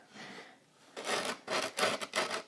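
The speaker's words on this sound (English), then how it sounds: "So the rougher grit will help me take more of the wood off than the finer grit sandpaper" Coarse-grit sandpaper rubs against wooden corners in four quick, rasping strokes, close and moderately quiet, with a soft scratch before them.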